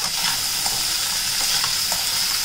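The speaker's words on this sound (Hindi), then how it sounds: "देखिए थोड़ा सा इसको हम यहाँ पे सॉटे कर रहे हैं।" Spinach curry for palak paneer sautés in a pan, a steady, loud sizzle with faint stirring scrapes throughout and no talking.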